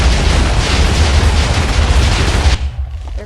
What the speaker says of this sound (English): when they fall into this crater, they will create an immensely large explosion